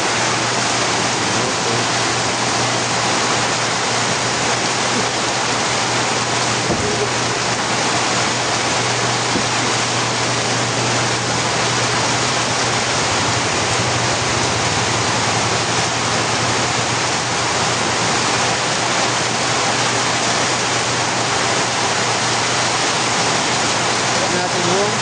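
Heavy rain pours steadily in a dense, even wash of noise that stays loud and unchanging for the whole stretch, with no voices over it.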